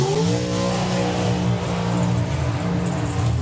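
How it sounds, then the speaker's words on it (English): A drag racing van's engine revs hard at a drag strip, its low harmonic drone climbing in pitch and then holding as a loud, close, rough roar. "the very distinctive sound of the van with no name"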